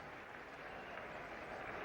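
Spectators at the 1973 England vs. West Indies cricket Test keep applauding after a four, a continuous, fairly soft wash of clapping that rises slightly toward the end.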